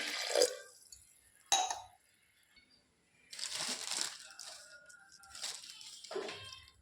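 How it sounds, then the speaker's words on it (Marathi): Water poured into a pot of whole masoor lentils in a few short, splashy bursts, close by, with quiet gaps between pours. "मसुरा शिजर एवढं पाणी आपल्याला याच्यामध्ये ॲड करायचं आहे"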